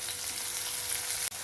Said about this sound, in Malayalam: ഇതുപോലെ നല്ല ചുവക്ക ബ്രൗൺ നിറമാകുന്നത് വരെ സവാള വറുത്തെടുക്കണം